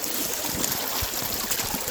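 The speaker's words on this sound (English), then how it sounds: "There's water coming into the miner's moss from underneath, so it's actually charging it, sort of like a jig." Water rushing through a gold sluice box lined with miner's moss, a steady broadband gurgling flow with small splashes, close and continuous with no voices.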